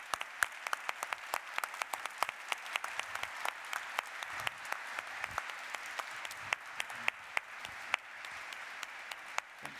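An audience at a keynote event applauds a customer walking on stage, a steady, moderately distant round of clapping with sharp individual claps standing out from the wash throughout.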